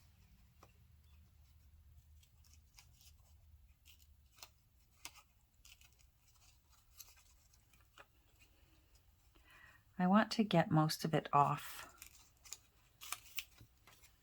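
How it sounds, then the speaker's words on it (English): Scissors fussy-cut leaves from fragile paper in a quiet room: a short, dense burst of crisp snips comes partway through, with scattered faint ticks and quiet speech around it. "I'm going to fussy cut some of these leaves."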